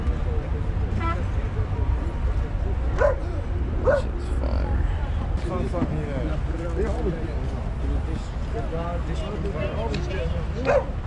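A dog barks and yips repeatedly at a flea market, its bursts scattered over steady crowd chatter and people talking nearby.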